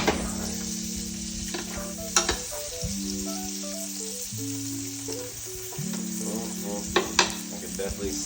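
A pork chop sizzles in a frying pan while butter is spooned over it. A continuous loud frying hiss runs under clear sustained musical tones, with a few sharp clinks of the spoon against the pan.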